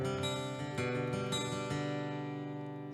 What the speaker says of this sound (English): And then now I have this kind of picking run